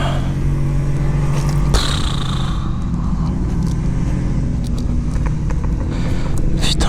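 A KTM RC8 R sport motorcycle runs close by with a steady, loud engine drone that holds throughout and shows a sharp shift partway in, with no talk over it.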